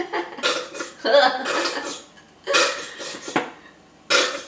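A squeezed bottle of Dijon mustard sputters in the kitchen, giving several loud, wet, fart-like bursts in uneven spurts with short gaps between them.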